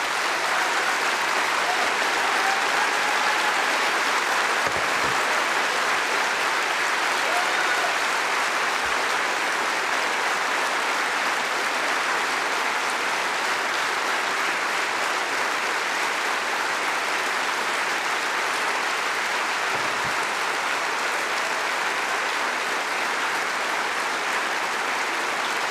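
A large audience at a Labour Party conference applauds steadily for nearly half a minute, a dense, even wash of clapping that holds at a constant loud level with no talk.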